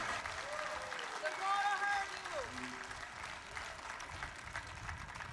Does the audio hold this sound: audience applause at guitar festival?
yes